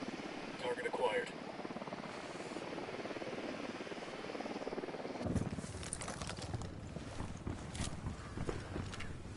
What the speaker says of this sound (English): Spotting the chopper.